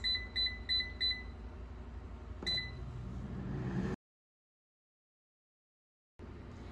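An air fryer timer signals the end of cooking with four short high beeps in quick succession and then one more. Faint kitchen clatter follows, the sound cuts out briefly, and a low hum returns afterward.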